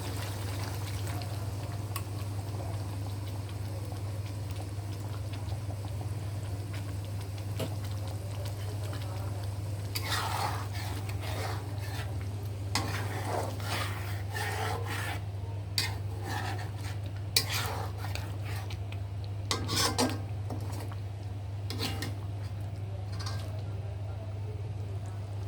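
Thick ground nut, poppy seed and coconut paste goes into a pot for a Chittagong-style whole chicken curry, giving soft scraping and spoon clinks over a steady low kitchen hum, with sizzling and pouring sounds in the second half.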